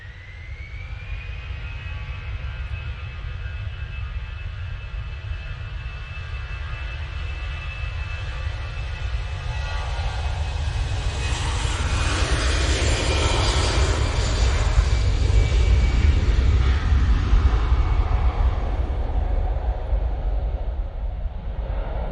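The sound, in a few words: passenger plane departing Manchester Airport for Amsterdam Schiphol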